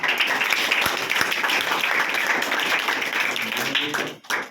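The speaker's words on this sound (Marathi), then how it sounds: "या नावासाठी एकदा आपण टाळ्या वाजवल्या" Audience at a school event at Lokshakti Vidyalaya, Didud, clapping in sustained, dense applause that carries steadily for several seconds before tapering off near the end.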